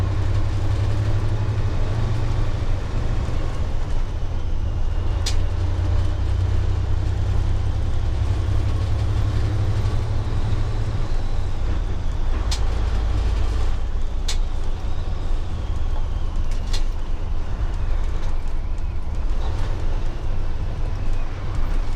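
A truck with a 10-speed transmission shifting from sixth to seventh gear, a steady loud engine drone that dips and changes as the throttle is released, with a few brief sharp clicks and hisses and no talk.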